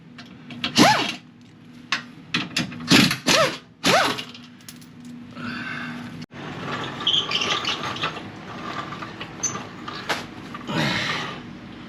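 Rear bolts come out of a Jeep Cherokee Trailhawk's ZF 9HP transmission, with close ratchet clicks and tool squeaks in short bursts, then metallic scraping and shuffling handling noises, some loud and near.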